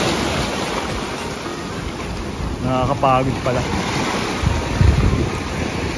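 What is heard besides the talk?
sea waves at a beach in Japan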